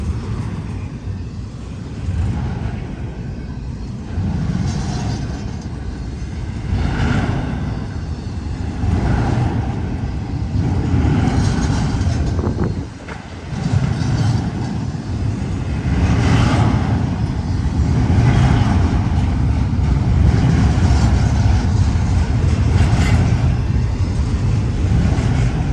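A Z-class freight train passes on a quiet day, a steady heavy rumble with rolling engine drone that swells and holds for the whole stretch, close and loud, with no talk.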